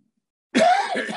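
A single short, rough cough bursts out after a moment of silence, close and fairly loud.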